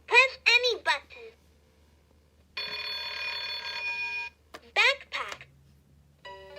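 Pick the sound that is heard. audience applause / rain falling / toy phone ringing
toy phone ringing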